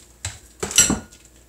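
Thick chocolate banana muffin batter is scooped into a muffin tray, producing two or three short close clinks and scrapes of a utensil against metal, with quiet gaps between them and no talk.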